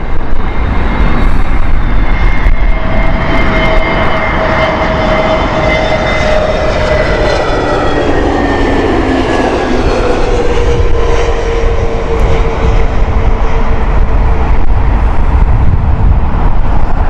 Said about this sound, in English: this is an Airbus A320 Neo